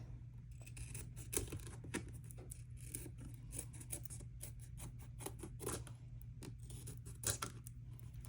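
Scissors trim an insert in a run of irregular close snips and rustles over a steady low hum, each cut short and sharp, with no talking.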